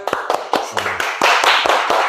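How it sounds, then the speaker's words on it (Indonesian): Classmates clapping after a group presentation, a few distinct loud claps at first, then a denser burst of clapping from several people, close by. "kasih tepuk tangan"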